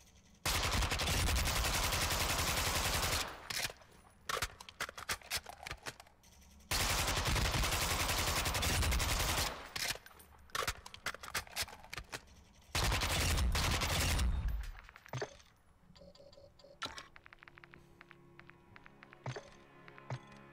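Weapon fire in Modern Warfare II DMZ: three long sustained full-auto bursts of several seconds each, loud and close, separated by scattered single shots, clicks and handling thuds.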